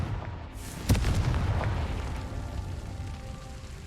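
A Confringo fire spell from Hogwarts Legacy bursts with a sharp single boom just under a second in, its loud crackling rumble then fading slowly into a low lingering tail.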